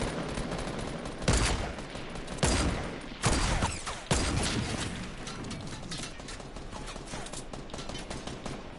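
Gunfire in the video game Fortnite, with four loud, sharp bursts of shots in the first half, then a continuous softer rattle of distant gunfire and game noise.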